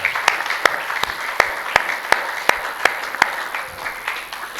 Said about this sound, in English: Give God a clap offering.